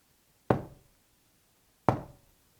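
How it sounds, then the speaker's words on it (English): Two loud, hollow knocks a little over a second apart during a ghost hunt in a haunted house, each a single sharp thud that fades quickly into a quiet room. "can you do two loud knocks for me just so we know?"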